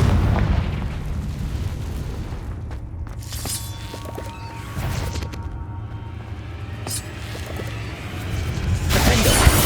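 Booming blasts from the Confringo spell in Hogwarts Legacy burst out several times over rumbling game ambience, with sharp crackling hits scattered through the stretch and a louder burst at the end.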